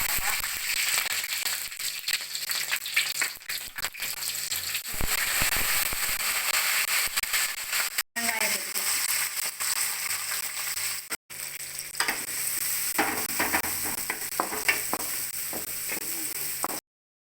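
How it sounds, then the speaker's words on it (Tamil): Cumin, fennel seeds and black pepper crackle and sizzle in hot oil in a pan, a steady close-up frying hiss with sharp pops throughout and two brief cuts to silence. "எண்ணெய் ஊற்றிக்கலாம் சூடானோன்னு சின்ன சீரகம் கொஞ்சம் பெருஞ்சீரகம் கொஞ்சம் மிளகு"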